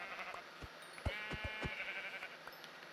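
Sheep bleating in the video game Minecraft, a short wavering bleat over faint background game sounds with a few soft thuds, fairly quiet and without talking.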